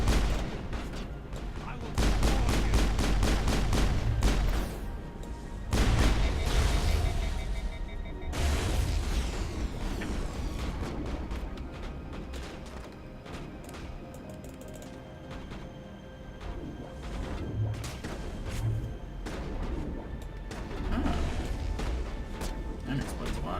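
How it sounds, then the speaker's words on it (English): Sustained gunfight in the video game Mass Effect, with rapid bursts of weapon fire and booming impacts, dense and loud, fading into a rumbling battle mix midway with occasional sharp shots. "As promised, gunfight."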